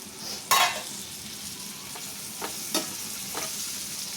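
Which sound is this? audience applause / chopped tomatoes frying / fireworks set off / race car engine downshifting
chopped tomatoes frying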